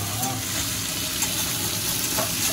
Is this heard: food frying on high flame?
yes